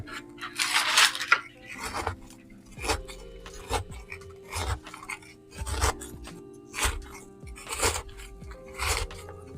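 A knife cuts around the inside edge of a plastic bonsai pot holding a ginseng ficus, giving repeated close scraping and crunching strokes through soil and roots, spaced roughly every second, with faint clinks.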